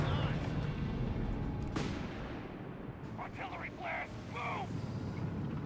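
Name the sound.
artillery barrage in Company of Heroes 3 video game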